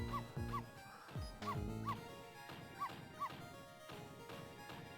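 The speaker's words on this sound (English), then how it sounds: "That is the exact same dog sound effect Capcom's been using since Mega Man Legends 1." Repeated cartoonish dog barks and yips from the video game Ghost Trick, in short clustered bursts of two or three, loud and close, with a brief whimpering tone between them.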